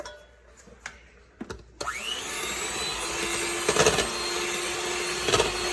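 An electric mixer starts up after a few clicks and then runs steadily, blending vanilla into butter cake batter, with a continuous close whirr and occasional knocks against the bowl.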